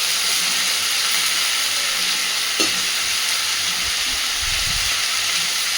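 Steady loud sizzle of green chillies and Malabar spinach fruits hitting a hot pan of oil, a continuous close hiss with a few soft stirring knocks near the end.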